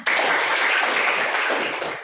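Students in a classroom lesson clap their hands together, a loud, close burst of brisk group clapping that starts abruptly and carries on for about two seconds before easing off.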